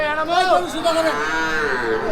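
Shahiwal cattle at Hazratpur livestock market, one loud close drawn-out moo with a wavering pitch, over faint market background.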